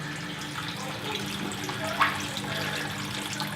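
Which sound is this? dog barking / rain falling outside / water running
water running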